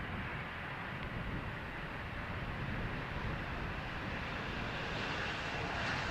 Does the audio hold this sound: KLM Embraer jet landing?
yes